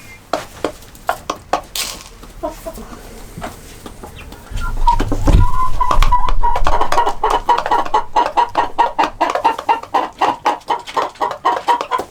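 A blue mottled Ancona rooster clucks in short, rhythmic bursts, close and loud, with a longer drawn-out squawk in the middle before the steady clucking resumes.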